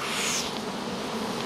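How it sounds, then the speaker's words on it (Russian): Honey bees at an apiary buzz in a dense, steady swarm, close and loud throughout the short stretch, with no other sounds. "Жужжат и кружат, не жалят, а опыляют и собирают нектар."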